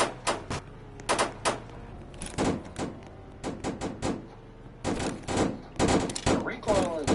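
Sharp bursts of M16 rifle fire in a video game, clustered into rapid volleys separated by brief gaps, close and punchy.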